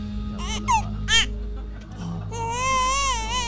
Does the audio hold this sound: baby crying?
yes